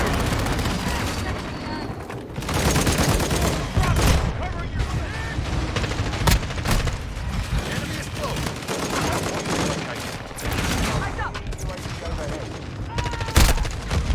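Heavy video game gunfire from a hostile gunship, sustained bursts and booming impacts filling the scene, loud and close, with voices talking over the barrage.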